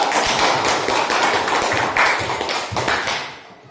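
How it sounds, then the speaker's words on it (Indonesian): A classroom of students claps together, a dense burst of hand claps close by that tapers off toward the end, with no talking over it. "Tepuk tangan dulu."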